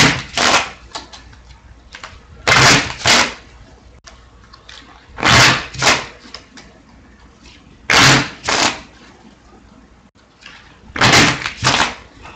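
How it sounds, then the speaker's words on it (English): A deck of trading cards is shuffled by hand in quick bursts, each riffle a sharp, close flurry of fluttering card clicks separated by short pauses, repeated about five times. "here are the cards. We'll do some quick shuffling."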